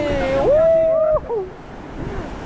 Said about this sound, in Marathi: तर लाटा खूप आहेत ना